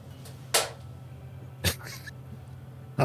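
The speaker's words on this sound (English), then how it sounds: "My cat was being goofy" A house cat lets out a few short, faint meows, two or three separated chirps over a quiet background hum, with no talking.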